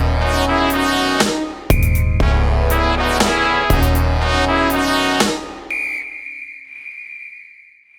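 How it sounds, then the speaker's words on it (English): A referee's whistle lets out a long, steady, shrill blast that rises out of loud music and holds on as the music fades away. "Somebody take his whistle!"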